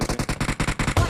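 Fast automatic gunfire in the mobile battle royale game PUBG Mobile, a tight burst of about a dozen rapid evenly spaced shots, loud and close, with no talk.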